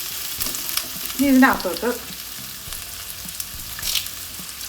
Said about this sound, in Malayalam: ഇതെല്ലാം നല്ലതുപോലെ വഴന്ന് കിട്ടണം, നല്ല ഒരു ബ്രൗൺ കളറായി കിട്ടണേ.